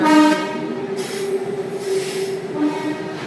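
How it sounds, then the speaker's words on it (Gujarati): Nearby train at Surat station with a long sustained horn-like tone and metallic wheel squeal over a steady rumble. "જોઈ રહ્યા છો મારી પાછળ ટ્રેન"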